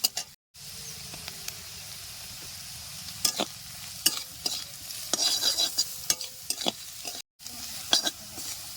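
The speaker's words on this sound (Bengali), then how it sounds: "এখন আমি এর মধ্যে পরিমাণ মতো হলুদের গুঁড়া দিয়ে দেবো" Potatoes, onion, green chilli and turmeric stirred and frying in a pan for a village-style prawn and water spinach stalk curry, a steady close sizzle broken by scraping spoon strokes, with no talk.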